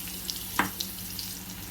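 Crushed fresh garlic sizzles faintly in hot oil for a vegetable pasta, with a soft, low hiss and one brief clatter partway through.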